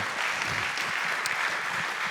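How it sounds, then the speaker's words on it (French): A conference audience at a workplace health and safety colloquium applauds a speaker, the clapping dense and sustained at a steady level for the whole stretch. "on va l'applaudir"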